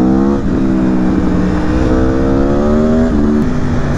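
Aprilia Tuono 1100 V4 Factory motorcycle engine revving, a loud, close, steady V4 drone that rises in pitch through the blips, heard alone without talk.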